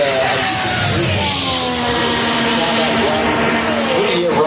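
IndyCar race cars at Indianapolis Motor Speedway scream past, their high engine tones sweeping and shifting under steady wind-like rush, with a voice talking over the passing cars.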